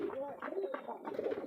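Pigeons on a pigeon farm, some sitting on eggs, give soft, faint, repeated throaty coos from close by, with a quiet voice underneath.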